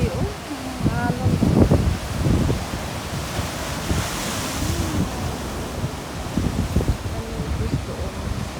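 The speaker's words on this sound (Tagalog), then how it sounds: "Grabe ng alon, guys." Ocean waves crashing on a windy Bermuda beach by a church, a continuous roar of surf with wind buffeting the microphone, while a person talks intermittently over it.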